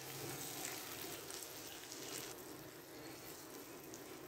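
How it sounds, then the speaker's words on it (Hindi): Tomatoes and onions frying in a pan while being stirred together, a faint, steady sizzle and crackle with soft scraping, no talk. "प्याज लाइट से फ्राई करने के बाद अब यहाँ पर हम ऐड करेंगे टमाटर और यहाँ पे इनको हम मिक्स करेंगे"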